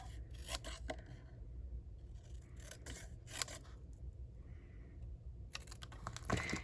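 Scissors snipping through cardstock while trimming a Christmas ring card, a few crisp cuts and rustles close by, faint and alone without talk.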